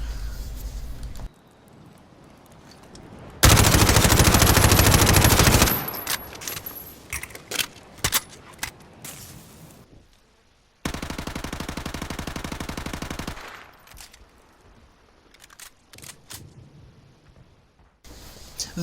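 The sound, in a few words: MP5 gunfire aiming down sights outdoors, from a video game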